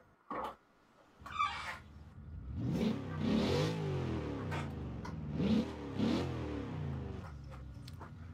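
A big Plymouth Fury Hemi V8 engine in the game Forza Horizon 4 revs repeatedly in rising, roaring bursts, rough and throaty, after a couple of short mechanical clicks at the start.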